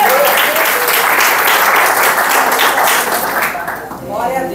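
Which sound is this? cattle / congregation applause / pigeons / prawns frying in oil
congregation applause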